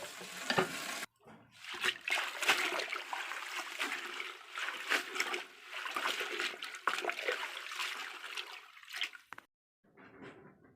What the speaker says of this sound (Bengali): সবগুলো শাক একটি বড় বালতিতে নিয়ে খুব ভালোভাবে ধুয়ে নিব